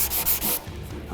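Hand sanding of a car fender with 220-grit paper under fingertip pressure, heard as a few close, bright rasping strokes that then ease into a softer, steady rubbing.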